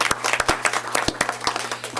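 Brief applause at a school district board meeting greeting an elementary school student leader, a small group clapping fairly close, with distinct separate claps over a low steady hum.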